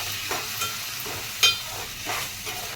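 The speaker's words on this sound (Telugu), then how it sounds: "ఇప్పుడు టమాటా పూరీ ఈ పచ్చివాసన పోయి పోయే వరకు వేయించుకోవాలి" Tomato puree fries in a pan with ginger garlic paste for fish biryani, a steady close sizzle and hiss with a few soft stirring scrapes, no talking.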